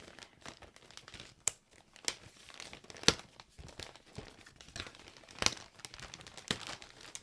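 Plastic bag packaging from a set of wargaming miniature kits crinkles and rustles in a string of quick, sharp handling bursts, close up and moderately loud, with no talk.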